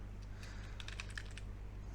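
Fingers type on a computer keyboard while writing Python code, a brief quick run of close, soft key clicks over a low steady hum.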